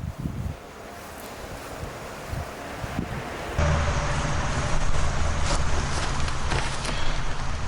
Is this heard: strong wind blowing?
yes